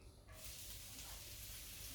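A handful of curry leaves hit hot oil, and a sudden loud sizzle flares up after a brief quiet moment, then holds as a steady, bright spattering hiss.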